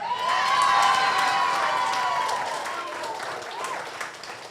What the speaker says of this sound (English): That's where you should applaud